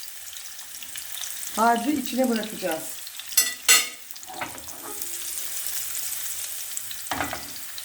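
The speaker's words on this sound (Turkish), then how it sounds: "Patateslerimizi önce kızartıyoruz arkadaşlar." Potatoes frying in a pan over medium heat, a steady sizzle running throughout with brief stirring clatters, while someone speaks briefly near the start.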